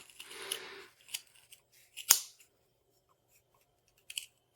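Scissors snipping through yarn threads for a pom-pom, a few separate sharp cuts with pauses between them, close and fairly quiet.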